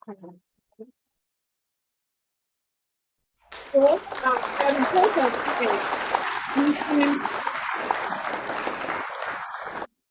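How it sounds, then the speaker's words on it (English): Audience applause at a coding bootcamp closing ceremony bursts in after a short silence and a brief voice, then continues as sustained, dense clapping from a large crowd until the end. "A round of applause"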